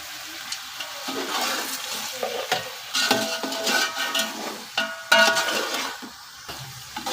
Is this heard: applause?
no